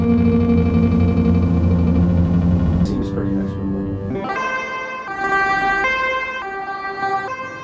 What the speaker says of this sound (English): Ambulance is coming to save this video.